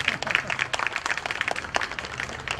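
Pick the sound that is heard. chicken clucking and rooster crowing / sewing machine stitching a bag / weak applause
weak applause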